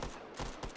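Gunshots go off in the VR game Hot Dogs, Horseshoes & Hand Grenades, a quick burst of two or three loud, close cracks in under a second.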